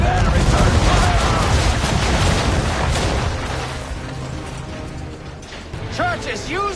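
Naval cannon fire in Assassin's Creed 3 during a ship battle at sea, heavy booming and mechanical clatter that fades over several seconds, followed by a short shouted voice.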